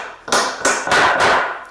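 Four sharp hammer blows on pallet wood, driving a bent nail back out, close and loud, spaced roughly a third of a second apart with no talking.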